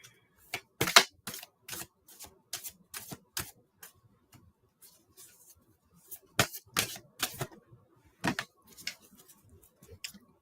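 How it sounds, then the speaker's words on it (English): A deck of tarot cards being shuffled by hand in a quiet room, with repeated crisp riffling bursts separated by short pauses, close and fairly soft. "One more shuffle."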